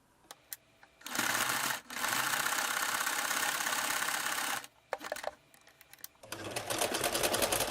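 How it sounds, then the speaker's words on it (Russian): A sewing machine runs in steady bursts as it stitches around the outline of a fabric bow for a mouse-shaped kitchen potholder. The motor whirs loudly and close, pausing briefly between runs, with light clicks of the fabric being turned. "Теперь нам осталось прострочить по контуру бантика."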